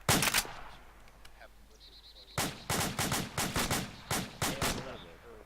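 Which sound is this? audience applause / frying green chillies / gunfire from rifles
gunfire from rifles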